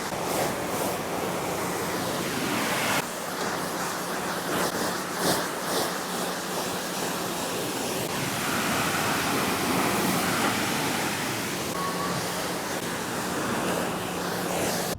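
Steady, loud rush of water spraying over a Velotric Nomad 2X fat tire e-bike, an IPX6-rated washable bike, filling the whole stretch as continuous broadband hiss with slight shifts in intensity and no talk.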